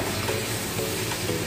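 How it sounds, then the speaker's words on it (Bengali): Prawns sautéing in a pan for a Bengali jackfruit prawn curry, a loud, even sizzle running unbroken for a short stretch, with a faint scrape near the end. "এটা চিংড়িটা 2 মিনিট ধরে কষানো হয়।"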